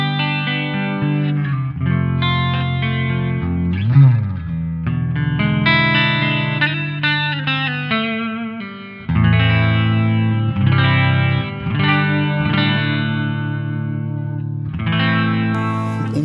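An electric guitar runs through a Gokko Super Chorus, an all-analog stereo chorus pedal, giving shimmering, wavering chords and single notes, loud and close, with brief pauses between phrases.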